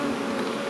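Honeybees buzzing densely at a beehive in July, a steady close hum filling the brief moment without any voices.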